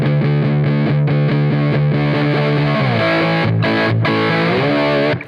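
Lap steel guitar in open D tuning plays a riff through heavy distortion, loud and steady, with sliding pitch shifts partway through.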